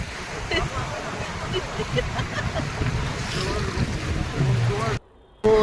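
Rough surf pounds the shore at Cox's Bazar beach, a continuous churning wash of breaking waves mixed with wind buffeting, with faint voices nearby before a brief drop-out near the end.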